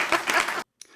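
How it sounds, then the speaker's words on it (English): A woman claps her hands briefly in an indoor podcast setting, a short burst of a few quick claps that stops abruptly, followed by a faint trailing sound. "Oh, she's clapping herself."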